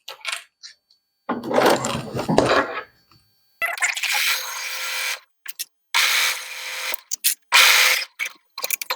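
Sewing machine stitching a polyester satin tube, in several short bursts of rapid mechanical whirring separated by quiet pauses, close and fairly loud.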